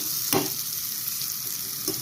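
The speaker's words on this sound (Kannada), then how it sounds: "ಚೆನ್ನಾಗಿ ಫ್ರೈ ಮಾಡ್ಕೋಬೇಕು ಈರುಳ್ಳಿ ಮಾತ್ರ" One large onion frying in oil in a pan for gongura chakotha soppu saru, giving a steady close sizzle with a couple of brief stirring scrapes, no voices.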